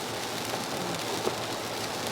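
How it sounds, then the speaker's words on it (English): Heavy rain pours steadily, a dense, even hiss close by with no breaks and no voices over it. "now it's raining hard and my camera does not do well"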